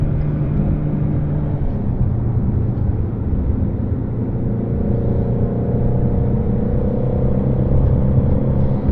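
A Shelby performance car drives along with a steady loud engine rumble and road drone, its pitch slowly shifting, no talk heard.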